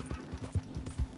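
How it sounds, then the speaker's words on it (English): Horse hooves clip-clop in Red Dead Redemption 2, several quick, fairly close, even thuds in a steady walking rhythm with no talking. "Oh, come on, you stupid fucking horse."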